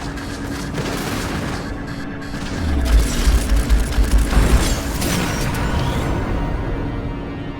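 Gunfire and explosions in the space-combat game Strike Suit Zero as the limiters are destroyed: a dense run of heavy booming bursts in the middle, over a steady roar of engine and effects noise, with no talking.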